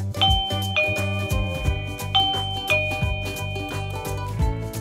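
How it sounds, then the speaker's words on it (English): A eufy wireless doorbell chime rings after the doorbell button is pressed, clear melodic tones repeating loudly with nothing else heard. "press the doorbell button to make sure the chime paired up correctly"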